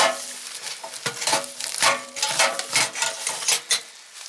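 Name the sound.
handling cooking pot parts, lid and divided bottom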